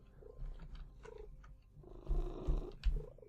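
A house cat purrs up close, a steady low rumbling purr that swells and grows louder toward the end, with a few soft vocal chirps mixed in.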